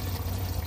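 Ground coriander and cumin poured into a cooking pot make a brief, soft, steady pouring hiss lasting under a second.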